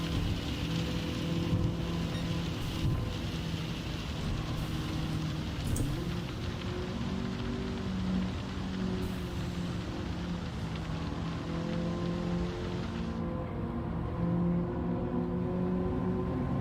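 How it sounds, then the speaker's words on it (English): Steady rain in the racing game Gran Turismo 7, a continuous hiss over a low engine drone that persists throughout without pause. "The rain again."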